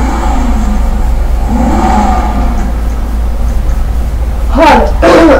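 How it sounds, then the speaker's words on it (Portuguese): A Jester sports car's engine in GTA V runs at a steady, loud revving hum, with a voice breaking in near the end. "Isso se chama de motor de carro."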